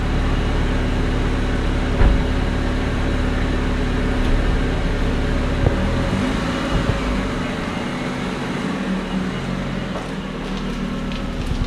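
A loud car engine runs steadily in an enclosed space, a deep continuous low rumble with a few brief spikes where it is revved, holding throughout with no clear talk.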